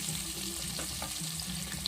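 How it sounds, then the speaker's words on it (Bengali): An egg fries lightly in a pan with oil, giving a steady, close sizzle and crackle that runs continuously with no voices. "ডিমটা আমি খুব লাল করে ভাজবো না"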